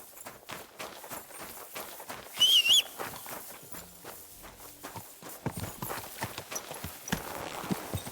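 Horse hooves clip-clopping along in the medieval game Kingdom Come: Deliverance II, a steady rhythmic walk of hoofbeats at moderate loudness with a brief whistle-like burst partway through and no talk.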